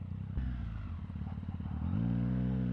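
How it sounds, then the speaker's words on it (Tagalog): Several motorcycles, including Triumph and BMW bikes, idling and revving nearby, a steady low engine drone with rising tones and a clattering chug, close and moderately loud. "daming motor dito"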